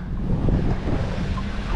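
Waves from passing motorboats slap the hull of a sailboat at anchor in the Frioul anchorage off Marseille, a steady, close wash of water and wind noise with no speech.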